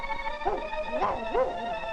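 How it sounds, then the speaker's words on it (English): A few short, yappy dog barks sound over a hissy, humming background on an old film soundtrack. Faint and somewhat muffled, spaced roughly half a second apart. "Stop your barking."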